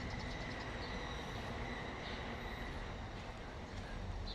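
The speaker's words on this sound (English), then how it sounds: "there's a Chuo line train" A Chuo Line train passing through Nakano in Tokyo, a steady broadband rumble and rolling roar at moderate distance that holds evenly throughout, with no voices.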